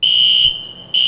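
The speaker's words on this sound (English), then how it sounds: "That's the emergency alarm." Loud, piercing building emergency alarm tone sounds steadily, cutting out briefly before resuming, with no voices.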